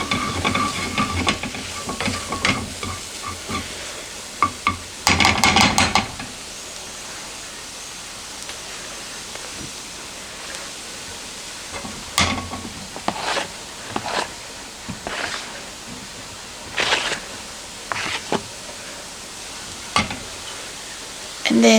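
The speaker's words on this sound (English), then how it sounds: "you cook the flour for a minute or so after you put it in, and that cooks off the paste flavor" Flour cooking in a pan for a tofu fricassee, a soft steady sizzle and hiss with intermittent scraping and stirring clatters scattered across the stretch.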